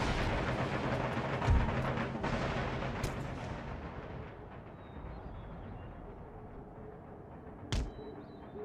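Massed artillery and musket fire on a battlefield in Empire: Total War, a dense rumbling barrage that thins over time, with a sharp booming shot near the end and no speech.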